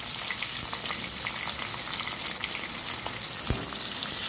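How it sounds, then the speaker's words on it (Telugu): Green chilies and onion pieces fry in tempered oil for a cauliflower dish, giving a dense, continuous, close sizzle with light crackles throughout. "పచ్చిమిర్చి ముక్కలు, తర్వాత ఉల్లిపాయ ముక్కలు వేసి బాగా ప్రవణించే వరకు వేయించుకోవాలి"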